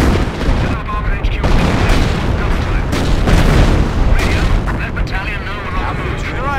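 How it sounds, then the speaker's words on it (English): An artillery barrage in the World War II strategy game Company of Heroes, a loud, continuous run of deep booms and overlapping blasts close by that fills the whole stretch, with no quieter gaps. "Incoming barrage!"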